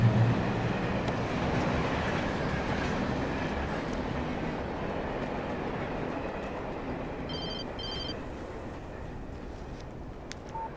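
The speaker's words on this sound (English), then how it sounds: "A train." Train passing in the video game Alan Wake, a loud, steady rumble and clatter of rail cars rolling by, with brief bell-like ringing partway through.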